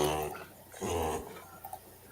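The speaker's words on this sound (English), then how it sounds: "That dog's making a weird noise." A dog makes an odd, drawn-out whining growl, two short low bursts close to the microphone with a slight squeaky edge.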